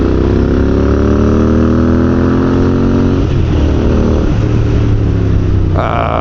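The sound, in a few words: Royal Enfield INT650 motorcycle engine while riding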